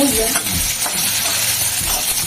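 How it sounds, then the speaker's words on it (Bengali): Hilsa fish head frying in a pan, a steady loud sizzle with bursts of crackle and occasional scraping, fairly close and continuous throughout. "ভালো করে কড়া করে ভাজবে"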